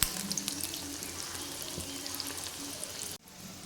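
Okra pieces frying in oil, a steady close sizzle with faint crackles that continues evenly before cutting off abruptly near the end.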